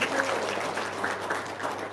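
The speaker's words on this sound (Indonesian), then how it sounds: "tepuk tangan dulu dong." Audience applause at a motivational seminar in Indonesia, a steady, dense patter of many hands clapping at moderate loudness throughout the short burst, with no voices standing out.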